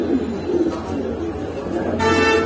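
Pigeons in a loft kept for sale, racers and Lahori breeds, cooing in soft low repeated calls close by over a muffled background.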